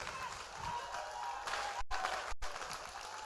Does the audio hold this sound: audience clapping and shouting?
yes